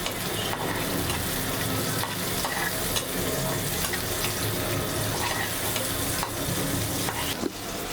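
Chopped garlic and sliced chillies fry in hot oil for a potato and okra dish, giving a dense, continuous sizzle with occasional stirring clinks, close and steady throughout, with no voices.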